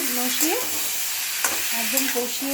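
Butter chicken masala with a little dried chilli sautéing in a pan: a loud, continuous sizzle and crackle with occasional scraping stirs, along with a few brief tonal squeaks.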